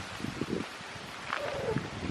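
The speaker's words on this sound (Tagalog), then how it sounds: "Lakas ang hangin." Strong wind blows across a farm with chickens and crops, giving a gusty, rustling hiss with uneven low rumbles and soft buffeting bursts, moderately loud and close to the microphone.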